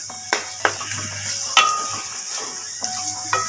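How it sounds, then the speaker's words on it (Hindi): Chicken frying in cooking oil with vegetables, a steady close sizzle broken by several sharp scrapes and clinks of a spoon stirring against the pan, with no talking. "कलर चेंज होने तक चिकन को हम फ्राई करेंगे कुकिंग ऑयल में सब्जियों के साथ"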